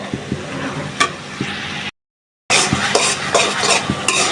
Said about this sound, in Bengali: সব মশলা টসলা দিয়ে কষিয়ে এখন চিংড়িগুলো দিয়ে দিলাম